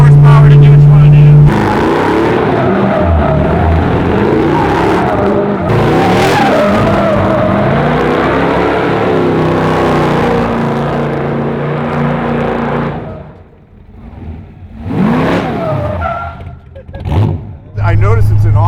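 A 1933 Plymouth hot rod with a 700R4 GM automatic doing donuts and burnouts, engine roaring loud and near with screeching, shredding tires for a long stretch, then dropping to quieter idle revs and short blips.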